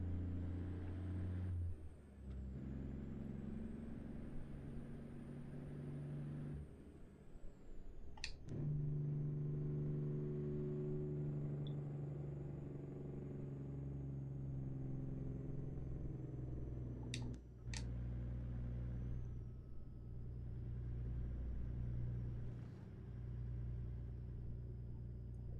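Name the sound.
loud truck engine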